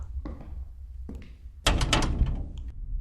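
A door in a Thai horror game about a broken elevator stopped on the wrong floor rattles and thuds as it fails to open: a few dull knocks, then a louder burst of jolting impacts, fairly close.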